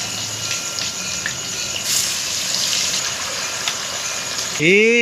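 Chicken pieces for chicken chaap frying in a pan give off a loud, steady sizzle that holds evenly the whole way through, and a voice cuts in briefly at the very end.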